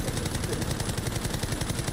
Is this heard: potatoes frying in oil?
no